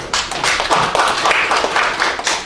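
An audience at a Korean policy debate forum gives a round of clapping, close and fairly loud, with uneven hand claps and a few dull taps running for a couple of seconds.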